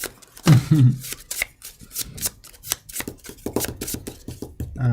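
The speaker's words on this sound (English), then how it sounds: "I shuffle." Rapid riffling and flicking of a card deck, a few quick bursts of papery clicks close by, with brief voices in between.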